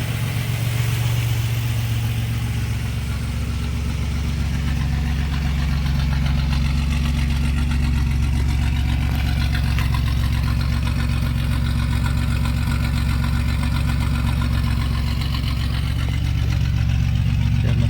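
A Grand National Turbo T with 55,000 miles, recently revived after sitting long enough to kill its battery, idles steadily after a cold start: a loud, continuous low rumble with no talking.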